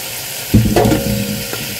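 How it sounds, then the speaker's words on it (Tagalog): Pork ribs searing in a hot pan, a steady sizzle with a sharper burst of frying as the meat settles, close and fairly loud. "hintayin po natin i-sear ang ating pork"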